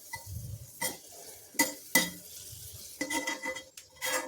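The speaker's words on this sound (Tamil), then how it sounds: "அதே நெய்யில் கொஞ்சமாக திராட்சை ஆட் பண்ணிக்கிறேன்." Raisins fry in ghee in a pan, with a soft sizzle under intermittent clinks and scrapes of a metal spoon stirring against the vessel, close and fairly quiet.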